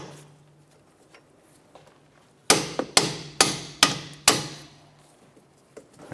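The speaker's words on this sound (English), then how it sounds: "I'm just going to go ahead and tap these bolts." Five sharp hammer blows ring out one after another at a steady pace on the strut-to-knuckle bolts of a 2006-2013 Chevrolet Impala, close and loud metal strikes following a quiet stretch.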